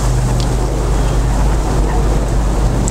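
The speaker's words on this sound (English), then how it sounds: "It's a bit windy." Outdoor wind buffets a microphone in a constant low, loud rumble with a steady, roaring texture.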